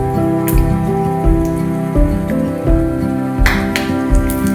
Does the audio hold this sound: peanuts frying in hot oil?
yes